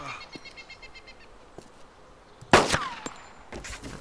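A sharp, loud gunshot from Arma 2 DayZ on the Taviana map cracks out midway, followed by a few fainter shots, over quiet background ambience.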